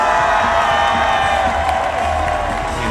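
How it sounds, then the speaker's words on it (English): A big crowd at the Paris 2024 Paralympic swimming venue cheers steadily for a swimmer from Spain, a loud, continuous roar of whoops and applause filling the arena. "Pina Batalla of Spain gets a big cheer."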